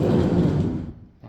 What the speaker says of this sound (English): That is a nice sliding door.